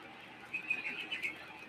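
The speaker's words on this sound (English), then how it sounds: "Let's just listen to the birds." Birds calling outdoors, a few faint chirps and coos scattered over the second half against quiet background, distant and soft.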